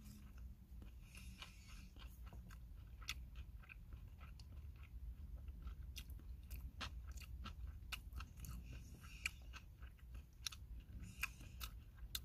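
Close, soft crunching and chewing of rice with Spam and stir-fried kimchi inside a small car, quiet bites and munches over a low rumbling background, no voices.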